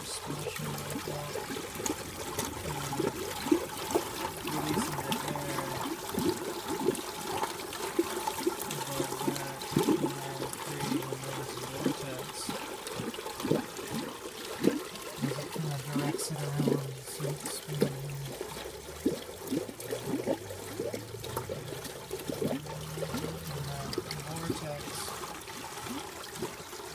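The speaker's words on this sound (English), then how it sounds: "The air driving the water up and then around here, and the water splashing back up." Water splashes and churns inside a vortex IMO brewer as air drives it upward and around, a continuous trickling, gurgling rush with repeated bubbling pulses, faint and close, with no speech.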